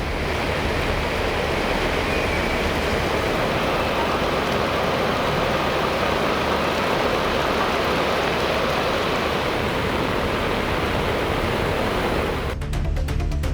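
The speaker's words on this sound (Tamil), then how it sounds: "பந்தலூர், தேவாலா சுற்றுவட்டாரங்களில் பனிமூட்டத்துடன் மழை பெய்தது." Steady rain falls with fog around Pandalur and Devala in the Nilgiris, a dense continuous hiss with no voices, ending abruptly.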